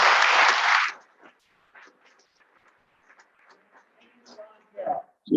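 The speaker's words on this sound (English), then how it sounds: "Round of applause for Barb Keeling, please." At a Rotary Club Citizen of the Year celebration, a loud burst of applause quickly fades, followed by scattered quiet voices and a few claps, with louder cheering at the end.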